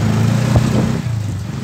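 Motorcycle engine hums loud and close in a brief steady pass, its tone dipping slightly toward the end.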